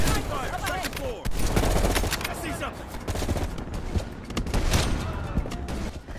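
Gunfire in Call of Duty Black Ops Cold War, a dense run of loud sharp shots and crackling bursts across several seconds, layered with busy in-game battle noise.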